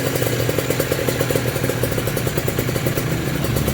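A repaired motorcycle engine idles steadily up close, a continuous mechanical chatter with rapid, even firing pulses and no voices.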